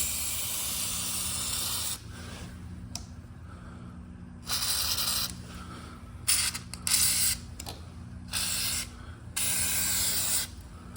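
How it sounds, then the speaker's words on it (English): Fluid Film lubricant sprayed onto a Honda lawn mower surface during servicing: several close aerosol hissing bursts of varying length separated by short pauses, with a steady low hum beneath. "So I have this fluid film. I'm going to spray it on this surface."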